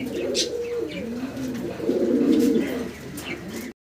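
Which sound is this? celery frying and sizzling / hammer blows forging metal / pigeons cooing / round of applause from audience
pigeons cooing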